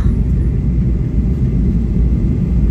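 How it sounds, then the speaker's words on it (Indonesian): Airliner cabin noise in flight on approach to Yogyakarta, a loud, steady low-frequency engine drone and rumble that continues without a break. "pesawat sudah berada di atas daerah sekitaran Yogyakarta"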